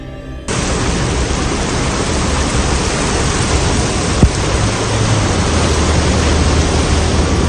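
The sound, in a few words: heavy rain and storm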